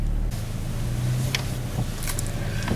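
An old sub-$500 junker car with 200,000 miles and its original clutch drives on a test run, a steady broadband road and engine rumble heard from inside the cabin, with a few faint rattles and no talk.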